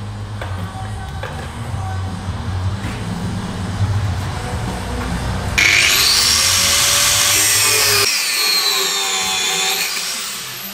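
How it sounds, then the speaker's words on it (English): Angle grinder cutting through rusty anti-roll bar drop links on a MINI, starting with low rubbing and scraping before a loud, sustained high-pitched grinding whine takes over for the second half. "Just going to get the angle grinder out."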